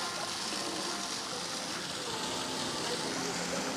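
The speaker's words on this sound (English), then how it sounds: "And you just hear the water fountains right here." Park water fountains at an exhibition grounds in summer produce a steady, broad rushing hiss that stays even and fairly loud throughout, with no clear break or voice over it.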